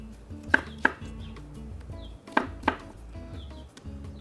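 Knife chopping cucumber on a cutting board for ceviche, four crisp distinct knocks in two pairs over a soft background, close and clear.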